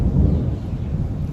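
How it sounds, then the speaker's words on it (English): Thunder rumbles low and loud during a thunderstorm, a brief sustained roll with no voices. "That storm was crazy."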